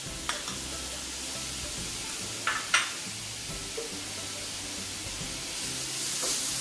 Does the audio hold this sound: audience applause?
no